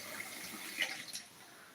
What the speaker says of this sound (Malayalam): നന്നായിട്ടൊന്ന് കഴുകി എടുക്കണം വെണ്ടയ്ക്ക